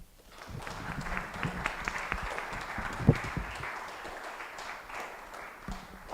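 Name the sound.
audience applause at conference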